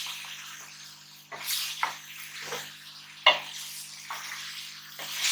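Ridge gourd curry (tori ka salan) is stirred in a pan, giving intermittent scraping and sizzling bursts with watery hiss between strokes, fairly quiet and close, with no speech.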